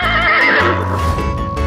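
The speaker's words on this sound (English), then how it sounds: "Horse." A horse gives one loud, close whinny that quavers and falls away over under two seconds.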